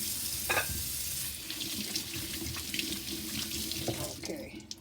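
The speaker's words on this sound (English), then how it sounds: "I'm washing my plantain before I peel it" A kitchen faucet runs steadily into a sink as plantain is washed under it, a close, continuous hiss of water with brief splashes and clatter where the fruit is handled.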